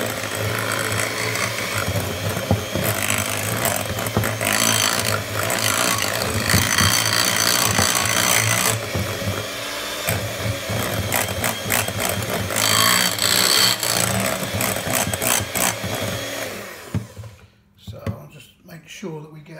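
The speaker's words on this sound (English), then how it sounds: "And then we're just going to give that one last whisk." An electric whisk beats egg whites into pavlova meringue, a loud, continuous buzzing whir with rattling against the bowl that cuts off near the end.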